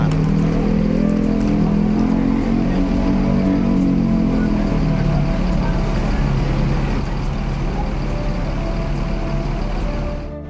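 Intercity bus departing Kampung Rambutan terminal, a loud, close, continuous diesel engine rumble and drone that tapers slightly at the end, with other vehicle and terminal noise mixed in and no clear talk.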